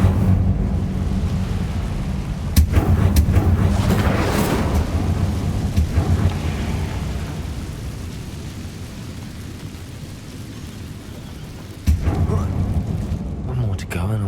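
Casting the Incendio fire spell in Hogwarts Legacy brings a deep rumbling roar with sharp bursts near the start and end, a fiery, booming swell that dominates the sound, with a voice briefly present.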